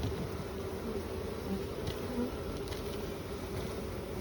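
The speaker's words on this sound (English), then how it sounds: "Oh, there's a bee on the screen." Honey bees buzz steadily around a backyard hive during a honey harvest, a continuous soft insect hum with occasional louder passes of individual bees close by.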